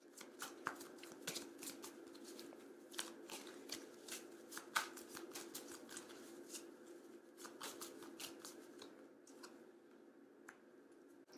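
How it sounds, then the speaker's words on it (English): Oracle cards being shuffled by hand, a steady run of soft riffling flicks and papery taps close to the mic, repeated through the whole stretch with no talking. "I'm going to pull an oracle card."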